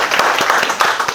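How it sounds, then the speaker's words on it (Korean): Lecture audience claps at the start of a summer-term political economy class, a short burst of dense, steady applause in a room, close and fairly loud, with no talking over it. "박수 치고 시작하죠, 우리."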